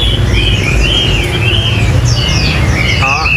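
Caged Chinese hwamei songbirds give brief melodic whistled phrases and chirps over steady low background rumble, with a short sharper call near the end.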